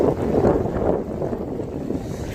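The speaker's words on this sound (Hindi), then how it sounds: "और तेज हवा भी चल रही है।" Strong wind rushes across the microphone beside a fast, cold river in Nepal, a steady close roar of broadband noise with no pauses and no talk.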